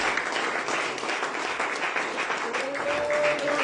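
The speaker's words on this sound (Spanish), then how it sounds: "Denle un aplauso fuerte a Jesús." A church congregation applauds during a Wednesday evening service, with steady, dense clapping that fills the whole stretch, along with a faint sustained tone near the end.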